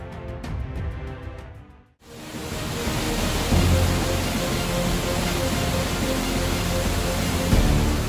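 A muddy flash-flood torrent rushes past eroding riverbanks and road, a loud continuous roar of churning water that fills the scene after a brief drop at the start.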